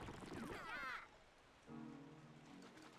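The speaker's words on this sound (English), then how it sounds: "Oh, it's raining now." Rain falling in the Pikmin video game, a soft steady patter under a brief burst of game chimes at the start and sustained tonal game notes later, quiet overall.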